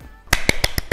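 Hands clap five or six times in quick, sharp succession after a home abdominal exercise routine, close and fairly loud against a quiet background.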